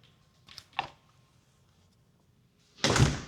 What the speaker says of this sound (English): Opening up the front door.